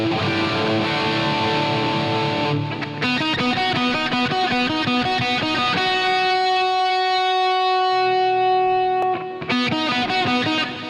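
Distorted electric guitar through a Helix Native amp simulator in Reaper, sustained chords ringing with a lush reverb tail, pausing briefly before the playing resumes.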